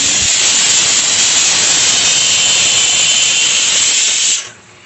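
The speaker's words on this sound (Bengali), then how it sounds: "এটা সিটি পড়ছে, লোকে শুনলে হাসবে।" A pressure cooker whistles while mango chutney cooks, a loud continuous steamy hiss holding steady for over four seconds before cutting off abruptly near the end.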